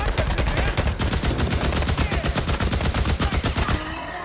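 Rapid automatic gunfire in the video game Days Gone, a fast steady burst of shots for several seconds before cutting off, loud and close.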